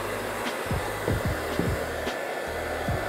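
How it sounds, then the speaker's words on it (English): A heat gun on its low setting blows with a steady whooshing hum while being used to loosen an orange grip on a Spektrum transmitter, with a few brief clicks and shifts in tone. "I like to use a heat gun on a low setting to get it to loosen up."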